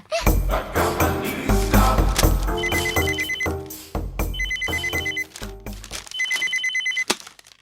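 A household telephone rings in repeated electronic trilling bursts, loud and close, over a busy background of thumps and other noise at the start.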